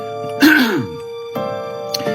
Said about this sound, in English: clear my throat here